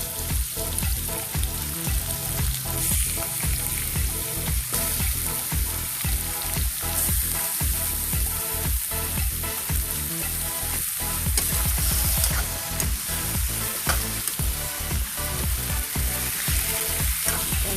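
Chicken pieces fry in a pan for chicken afritada, giving a loud, steady, close sizzle that never lets up, with faint stirring clicks scattered through it.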